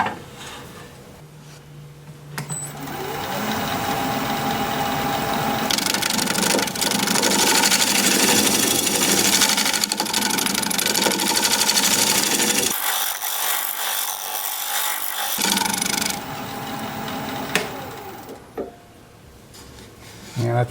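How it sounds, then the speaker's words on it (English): A shear scraper cutting a fruit wood bowl on a spinning wood lathe, producing a loud, steady, continuous scraping hiss that runs for about fifteen seconds and drops out briefly partway through. "I'm gonna get in here and do a little shear scraping"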